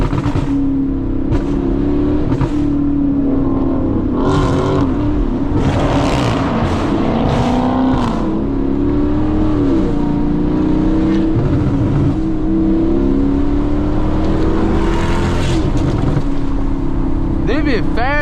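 A Dodge Charger Scat Pack-style car accelerates hard on a snowy road, its engine holding a steady loud drone that swells and rises in pitch, with people talking over it throughout.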